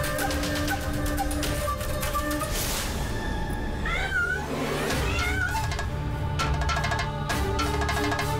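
A cat meows and caterwauls repeatedly at close range with drawn-out wavering cries, set against a dense, busy background of other sound.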